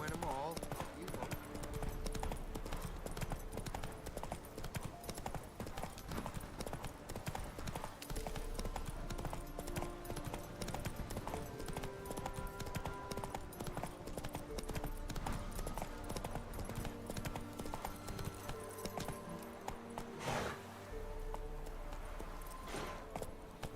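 Continuous galloping hoofbeats of Roach, the horse in The Witcher 3, running steadily at a close, even level with game music and ambience underneath and a faint whinny toward the end.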